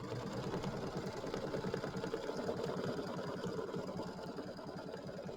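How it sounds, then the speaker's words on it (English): An embroidery sewing machine stitches a tack-down line on a mini quilt block, giving a steady, fast mechanical chatter of rapid regular pulses that runs on continuously at moderate volume. "I'm going to go ahead and stitch to step number 2 with that same color, and we're going to do the tack down line"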